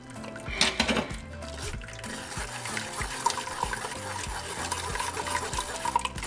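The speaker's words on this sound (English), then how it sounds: "now we're going to strain our broth" Chili broth for birria de res is strained and poured, a continuous splashing trickle of liquid with small clinks and stirring, moderately loud and close.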